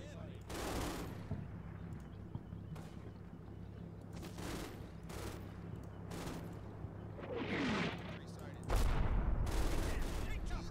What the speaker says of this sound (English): Mortars or something like that.